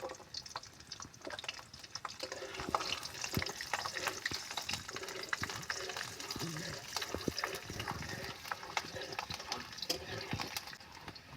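Whole garlic cloves hit hot oil in a pan, giving a steady broadband crackle and sizzle with scattered sharp pops throughout, close and moderately loud.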